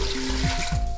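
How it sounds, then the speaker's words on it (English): Water pouring from a tap into a cooking pot holding chopped cow feet for nkwobi, a brief close rushing stream with rising gurgling tones. "Go ahead and cover that up with"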